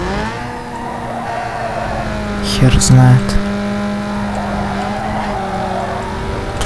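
A racing car engine in Need for Speed Underground 2 drones loudly and steadily at high revs, with a brief burst of tire squeal midway, while someone talks over the game sound.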